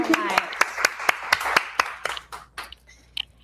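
A live audience claps for a guest speaker at a book launch event, a run of sharp hand claps that thins out to scattered taps near the end, with faint voices underneath.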